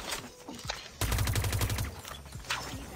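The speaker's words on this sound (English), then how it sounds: "Small room shotgun." A video game shotgun fires in a small room, followed by a rapid burst of loud close shots and a rattling tail, with quieter clatter and a further sharp report afterward.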